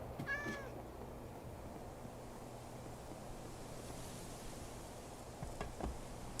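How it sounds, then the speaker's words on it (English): A cat in Minecraft gives a single short meow near the start, followed by a long stretch of steady ambient wind and water noise. "Is there a cat up here?"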